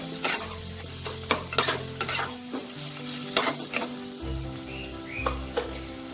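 Spinach chicken with tomato frying in a pan, a close steady sizzle broken by repeated sharp scraping and stirring strokes, with no talk.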